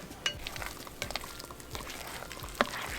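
A spoon stirring a thick crab dip mixture in a bowl, with soft wet squelches and occasional scrapes and clinks against the bowl.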